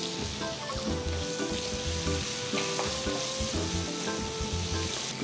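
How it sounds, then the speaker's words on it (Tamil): Chopped onion sizzles steadily in a hot pan with oil and asafoetida while a Tamil cabbage kootu is being made, a continuous close frying crackle with occasional stirring scrapes and no talk. "ஸோ வெங்காயத்தை வந்து ஒரு 2-3 நிமிஷம் வதங்கினா போதும்."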